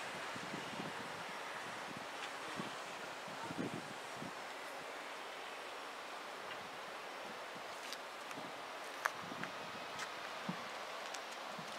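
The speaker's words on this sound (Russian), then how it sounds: "смотри, какой ветер" Steady wind rushes and buffets the microphone outdoors in a country garden, with faint rustling and occasional low thumps throughout.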